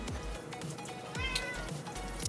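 A pet cat meows close up, several drawn-out whiny meows in quick succession over a low steady background hum.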